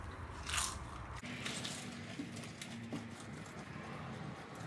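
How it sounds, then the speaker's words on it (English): Someone chews dry extra hot Cheetos chips during a hot chips eating challenge: dense, close crunching and biting under a steady noisy background, with faint low sounds in between. "Sometimes it gets me really hard to chew because it's like so dry."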